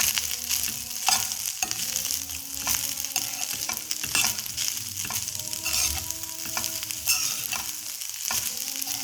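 Egg fried rice, finished with coriander powder and fresh coriander, is stirred in a hot pan, giving a continuous sizzle with steady scraping and clinking of the spoon, close and alone without any talking.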